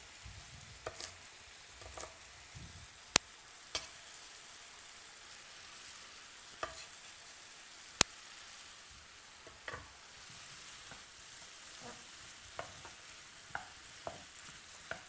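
Green beans, topped, tailed and cut into short pieces, stir-frying in hot oil, a steady close sizzle broken by sharp clicks and taps as they are turned over.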